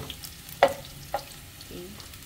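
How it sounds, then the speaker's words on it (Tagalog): Garlic fries in a pan with a low sizzle. Two sharp clacks of a utensil against the pan and a soft stirring scrape break through at close range. "ilagay ang bawang. Hintayin natin mag-brown."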